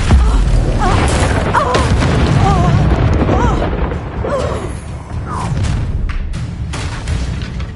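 The Incendio fire spell bursts in the video game Hogwarts Legacy, a loud booming roar that sustains for several seconds amid busy combat noise, with voices and effects mixed in.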